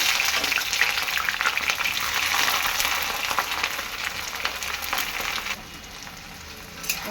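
Onions dropped into hot oil in a wok for mutton biryani, a loud, dense crackling sizzle that eases slightly toward the end.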